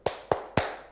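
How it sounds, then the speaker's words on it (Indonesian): Three sharp hand claps in a quick, evenly spaced row, close and clear, each fading into a short room echo. "Tepuk 3 kali ya anak-anak"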